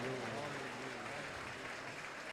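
A Telugu church congregation at a live anointing worship service claps hands loudly in a continuous, dense wash of applause, with a faint tonal hum underneath.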